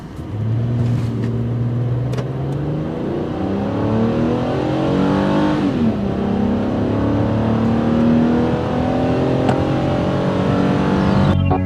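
A 2013 Mazda CX-9 engine revs hard through a 0-60 mph acceleration run, a loud steady growl climbing in pitch through successive gear changes, heard from inside the car.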